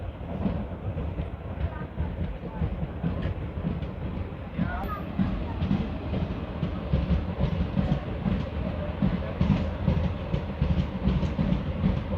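A Delhi–Jodhpur superfast express rolling along the rails, a steady loud rumble with faint clickety-clack throughout, and someone talking over it.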